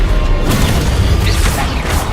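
A Confringo fire spell in Hogwarts Legacy bursts loudly and close, a dense roaring blast that holds steady for about two seconds with no voices.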